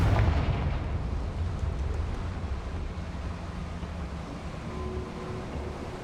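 A Confringo spell explosion in Hogwarts Legacy booms loudly at the start and then trails off into a long, steady rumbling roar that fades only slightly.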